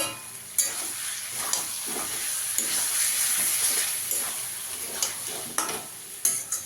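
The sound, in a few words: sour yogurt added to a hot pan, sizzling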